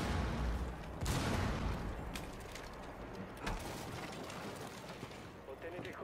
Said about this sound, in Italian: Adesso ti sparo con l'arma di Doc.